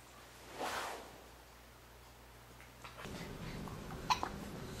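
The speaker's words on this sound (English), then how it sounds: "Hiccup." A two-week-old newborn baby hiccups softly, one faint burst early, then small breathy hics and rustling near the end, close and quiet.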